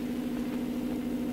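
A boat engine idles steadily on the water at night, a constant low hum with a strong droning tone, close and unbroken for the whole moment with no voices.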